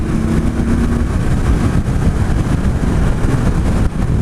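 A 2017 Victory Octane motorcycle engine drones steadily in sixth gear at freeway speed near 65 mph, a loud, continuous rumble mixed with wind roar that holds constant throughout.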